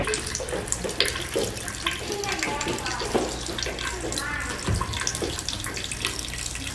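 Water running and splashing steadily indoors from a leak in a house near the bathrooms, a continuous hiss with scattered drips and a voice talking faintly underneath.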